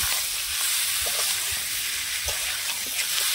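Raw jackfruit and potato frying slowly in oil over medium heat, a steady close sizzle with soft scraping stir sounds at irregular moments, no voices.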